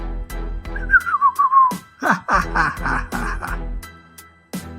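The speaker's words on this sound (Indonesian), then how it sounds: "bahkan sambil bersiul" A person whistles a short wavering tune amid rough throaty noises and breathy sounds, loud and close, with brief bursts between phrases.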